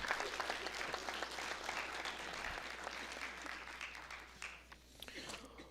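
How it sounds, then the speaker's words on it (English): Audience applause at a school scholarship quiz challenge final, clapping for two high school teams, the Wellsboro Hornets and the Owego Free Academy Riverhawks; dense, steady clapping from a crowd fills the whole stretch before tapering slightly near the end. "Let's have a round of applause for both the Wellsboro Hornets and the Owego Free Academy Riverhawks."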